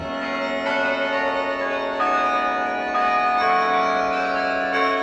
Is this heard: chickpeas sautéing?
no